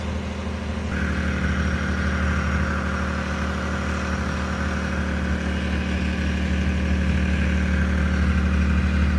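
A Toyota 4Runner engine idles high while warming up, a steady, loud mid-range hum that holds constant from start to finish with a slight shift in tone just after the first second; no one speaks.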